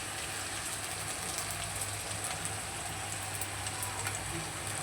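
Chicken rubbed with salt, oil and turmeric frying among reddened onions in a pan, a steady, close hiss and crackle of hot oil running unbroken throughout.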